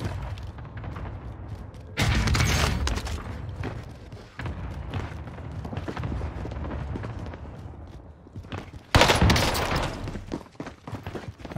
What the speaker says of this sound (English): I stopped shooting.